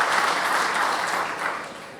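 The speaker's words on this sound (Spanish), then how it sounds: "pido un fuerte aplauso en honor al maestro Héctor Arias Bustamante" Warm, sustained applause from the audience at a national labor lawyers' congress honors maestro Héctor Arias Bustamante, a dense crowd clapping that holds steady and then gradually fades.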